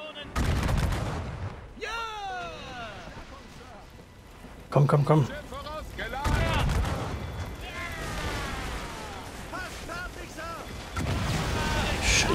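Heavy booms of ship cannon fire in the video game Assassin's Creed Rogue roll out amid wind and sea noise, with shouting German voices between the blasts.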